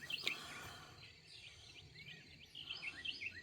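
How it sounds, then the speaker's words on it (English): Birdsong at daybreak in Georgia, scattered high chirps and calls repeating from several directions, mostly faint to moderate over a soft background hiss. "Amazing amount of birds I can hear."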